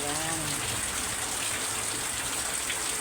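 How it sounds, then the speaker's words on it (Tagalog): Steady rain falls continuously during a typhoon, a soft even hiss of water on surfaces with no pauses, fairly faint and close. "Walang tigil ang ulan, no?"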